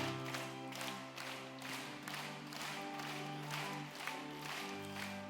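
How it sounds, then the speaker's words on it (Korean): A church congregation at a prayer meeting claps steadily in time while singing a hymn together, the rhythmic clapping mixed with voices and accompaniment throughout. "우리 지금 함께 박수하며 찬송하겠습니다"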